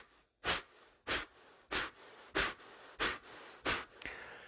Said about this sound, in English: Let's do the fire breath.